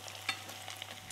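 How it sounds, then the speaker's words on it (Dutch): Stuffed mussels in béchamel frying crisp in hot oil give a faint, steady sizzle with light crackles, heard briefly and up close. "Een gevuld mosseltje, met bechamel en dan in de olie krokant bakken."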